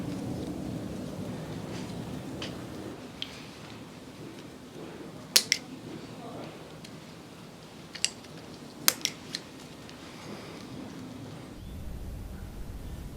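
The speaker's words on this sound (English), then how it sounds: "The loose ends of the wire are twisted together and then the excess is cut off" Wire ends are twisted together and the excess snipped off while mounting an orchid, giving a few sharp, close clicks of cutting over a faint rustle and low background hum.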